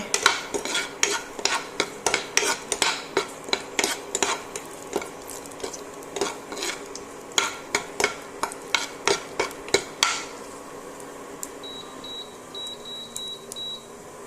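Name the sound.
dry fruits frying in ghee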